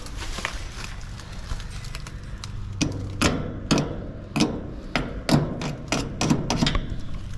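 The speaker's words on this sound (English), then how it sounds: "just take a screwdriver and just tap it to both sides here" A screwdriver taps against the terminals of a capacitor in an RV air conditioner, giving a series of sharp, close metallic clicks that grow more frequent toward the end, with faint background noise and no talking.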